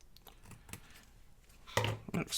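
Scissors snipping through folded paper to make a page tab, a few faint crisp cuts followed by a louder close crunching snip near the end, with a voice talking quietly.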